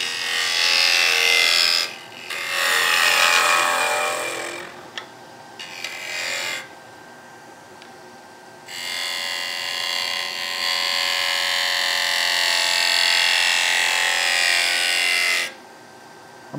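Wood lathe turning a skateboard blank, tool scraping the spinning wood in loud hissing bursts broken by short pauses, then one long steady cut near the end.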